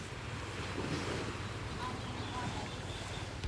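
Steady roar of ocean surf at high tide rolling in close by at a beach resort, with wind buffeting the microphone throughout and no clear breaks between waves.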